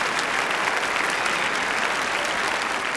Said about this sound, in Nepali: हाम्रो ब्यान्डलाई एकचोटि एकदम जोरदार ताली जानै पर्छ